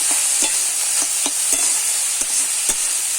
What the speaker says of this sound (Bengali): আলুর সঙ্গে মোচাটাও ভেজে নেব